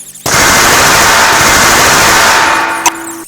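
Loud, sustained automatic gunfire from a GAC weapon sounds in an audiobook chapter, a dense, continuous rattling burst that fills almost the whole moment before cutting off abruptly.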